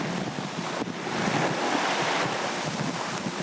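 A strong 20 to 25 knot headwind with gusts near 30 roars steadily across a sailboat while choppy seas rush and slap against the hull, loud and close with no voices.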